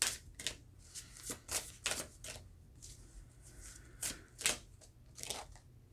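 Tarot cards being shuffled by hand, quiet papery riffles and slaps arriving in irregular bursts of about a dozen, close and soft, with no talking.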